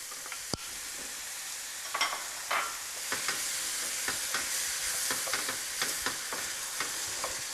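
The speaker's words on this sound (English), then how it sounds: "I give it a good stir" Crushed and diced tomato gets stirred into seared goulash meat in a pan, a rhythmic series of spoon scrapes and clacks over a continuous soft sizzle.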